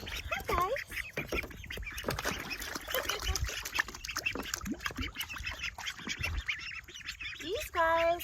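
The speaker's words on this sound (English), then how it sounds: "So I went and I bought 4 little duckies." Three-week-old ducklings paddle in a small pool, splashing and giving repeated quacks and peeps, up close, while a person talks over them.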